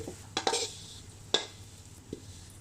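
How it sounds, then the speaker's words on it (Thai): Fried garlic and oil are poured out of a pan in a few short metallic clanks and scrapes over a faint, quiet sizzle. "ได้เหลืองประมาณนี้เอาขึ้นได้เลย ไปเทเลยพี่น้องแนะนำว่าให้เราเทแบบนี้เลย"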